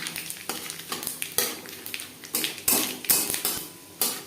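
Panch phoron spices and a bay leaf crackling in hot oil while a spoon stirs them, with sharp, regular scraping strokes against the pan over a steady close sizzle.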